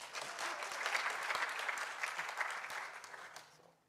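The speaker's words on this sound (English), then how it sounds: "Can we clap for him again?" At a university innovation week and industry summit, an audience applauds the deputy vice-chancellor with steady, dense clapping that holds for several seconds before fading out at the end.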